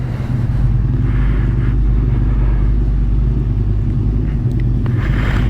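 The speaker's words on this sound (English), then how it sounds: "I must say the bike is idling very well" A motorcycle idles steadily close by, a deep, even low rumble with a constant throb and no revving, loud and uninterrupted.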